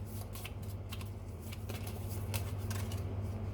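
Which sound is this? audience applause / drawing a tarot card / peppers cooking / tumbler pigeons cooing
drawing a tarot card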